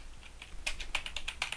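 Fingers tapping a computer keyboard in short irregular bursts of crisp clicks, close by and fairly quiet, with no talking over them.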